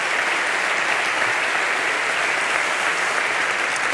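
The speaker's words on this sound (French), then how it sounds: "merci beaucoup mon cher Jérôme, vous pouvez l'applaudir" An audience applauds inside the Opéra Comique during a literary reading event, a dense, continuous wash of clapping that fills the hall with no break.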